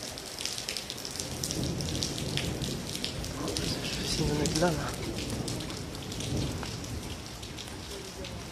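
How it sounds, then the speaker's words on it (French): Steady rain pours down during a July supercell thunderstorm, a dense continuous hiss with faint rumbles, while someone speaks close by over it. "Ah, il pleut un peu moins là,"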